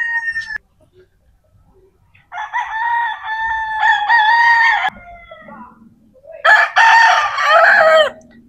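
Roosters at a gamefowl farm crow loudly in two long bursts with a quieter gap between, with faint clucking in the pauses and no talking.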